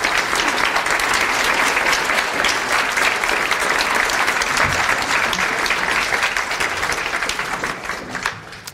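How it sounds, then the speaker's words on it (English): A festival audience at an arts event gives sustained applause to welcome two speakers onto the stage, a continuous, even roar of many hands that holds for several seconds before thinning near the end. "Please give him a round of applause."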